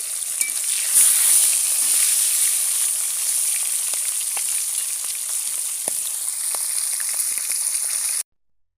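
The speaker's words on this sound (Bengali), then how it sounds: "এখন মাথা ভেজে নেব" Pieces of rohu fish head fry in hot oil, giving a steady, close, hissing sizzle with scattered pops and crackles that continues evenly until it cuts off at the end.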